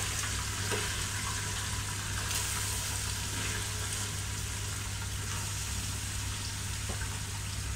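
Meat frying in a pan for nihari, a steady, even sizzle with faint water-like crackle running unbroken throughout at moderate level, no voices.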